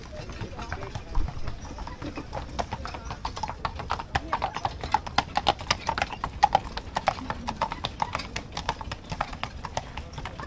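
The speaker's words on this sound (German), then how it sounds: "Hier sind noch mehr fahrende Pferde, die hier diese menschlichen Waggons hier rumschieben." Horses pull passenger wagons along a road on the Heidschnuckenweg, their hooves clip-clopping in a quick, steady rhythm close by, with people talking over the sound.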